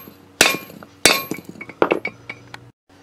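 One hammer strikes another hammer set against a rotor bearing on a 1987–96 Ford F-150 or Bronco: three loud, ringing metallic blows, close by, then a few lighter taps and a brief hum.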